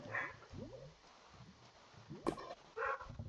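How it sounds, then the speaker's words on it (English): A dog barks and yips close by in short bursts, several barks with whimpering rises in between, fairly quiet and alone against a soft hiss. "Dog is still barking."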